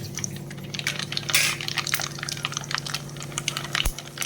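Mustard seeds crackling and spluttering in hot oil while tempering for a spicy raw mango pickle, with rapid scattered pops and sizzles close by, fairly steady throughout.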